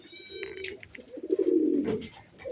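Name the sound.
pigeons cooing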